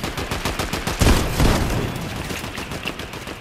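Rapid bursts of gunfire from a newly picked-up weapon in Fortnite crack out close and loud, with several heavier blasts among the fast repeating shots.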